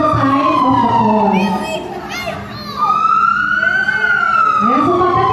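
A loud wailing fire alarm siren sweeps up and down continuously during a fire station drill in Muntinlupa, close by, with children's voices faintly audible beneath it.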